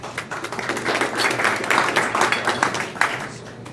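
Audience at a co-working space open house gives a round of applause, dense steady clapping from a room full of people, close and sustained throughout.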